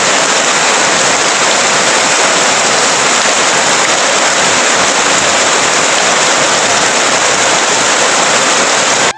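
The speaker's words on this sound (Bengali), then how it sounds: "অবস্থা কি হয়েছে, প্রচুর বৃষ্টি।" Heavy rain pouring down outdoors in a village: a loud, dense, unbroken hiss of falling water that stays steady throughout.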